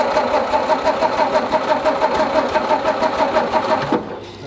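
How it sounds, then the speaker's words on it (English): An engine starter cranks a car engine that fails to catch, a rapid rhythmic churning that is loud and close, then stops near the end. "Go ahead and run the starter a little bit, Adrian."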